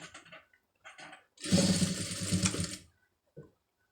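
Sewing machine stitching a side joint on a garment in one short close burst of about a second and a half, with brief mechanical clicks and handling sounds before and after.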